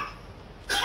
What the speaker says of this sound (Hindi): कैसे खांसी चला दी भाई